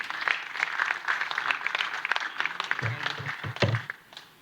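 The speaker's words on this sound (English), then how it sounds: "Can we give him a round of applause?" Audience applause at an economic dialogue conference session, steady clapping from a crowd that fades out after a few seconds, with a few louder nearby claps toward the end.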